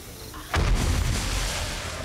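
A single heavy explosion booms in the 7 Days to Die game during horde night. It strikes suddenly about half a second in, then leaves a loud, rumbling low tail that lingers until the end.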